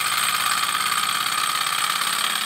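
A two-cylinder hot air Stirling engine with a built-in generator runs at a steady pace, giving a continuous mechanical whir with a rapid even pulse and a bright hiss, close and constant with no talk.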